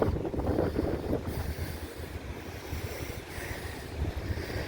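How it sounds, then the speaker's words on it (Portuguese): Strong wind roars across a hilltop lighthouse viewpoint in Montevideo, a steady, loud rush of microphone-buffeting gusts with a low surf-like rumble and no voices. "segurando o boné para não voar, que o vento aqui é bravo"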